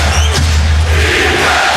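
Basketball arena crowd at an NBA Finals game between the Celtics and Lakers roars steadily, a loud, dense wash of cheering that holds throughout.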